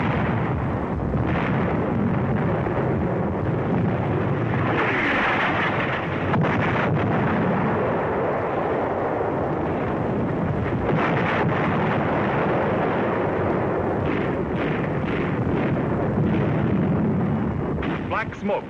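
Artillery shell striking an enemy 88mm gun position at the North African front in 1943, a loud, continuous roar of blast and rumble with wind-buffeted noise throughout, sustained and heavy rather than a single clean bang.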